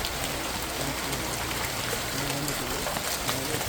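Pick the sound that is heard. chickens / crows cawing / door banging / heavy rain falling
heavy rain falling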